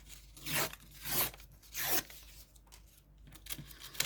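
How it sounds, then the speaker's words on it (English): Printed junk journal cards being torn apart by hand, three loud ripping bursts close up followed by softer rustling and handling of paper. "Just tear all these down."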